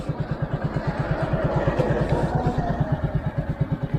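A motorcycle runs at close range with a steady, fast-pulsing engine putter and some rattling, holding an even idle-like rhythm throughout.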